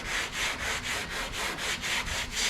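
A 240-grit sanding block is worked by hand over peeling paint on a GM car, giving a steady run of about ten rhythmic, close rasping strokes with no talk.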